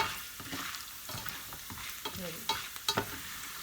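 Food frying in a pan with stirring, a close steady sizzle broken by sharper clinks and scrapes toward the end, with a brief spoken phrase.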